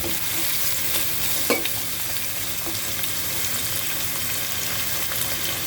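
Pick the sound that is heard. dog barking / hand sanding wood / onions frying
onions frying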